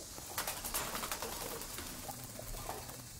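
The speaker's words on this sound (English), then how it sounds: "Fucking pigeons." Pigeons coo in the video game Corruption Ad Infinitum, soft repeated throaty calls with faint clicks and flutters over a constant ambient bed, at moderate distance.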